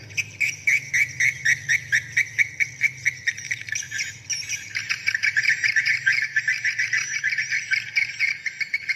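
High, rapid chirping swiftlet calls repeat in fast pulsing trills, shifting into a denser continuous twitter halfway through, loud and close with no voices, a mixed recording.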